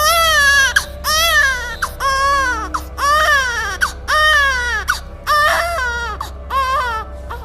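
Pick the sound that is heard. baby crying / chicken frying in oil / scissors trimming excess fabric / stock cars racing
baby crying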